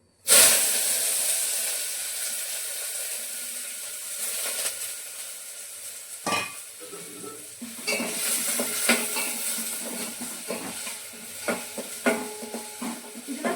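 Steady oil sizzle from a hot pan, onions and curry leaves crackling as they hit the fat, with occasional stirring clinks and scrapes.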